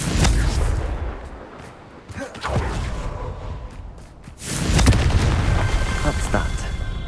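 Confringo blasting spell exploding in Hogwarts Legacy: loud booming blasts with a rumbling tail, a first burst near the start, another around two seconds, and a heavier explosion near five seconds over continuous game rumble.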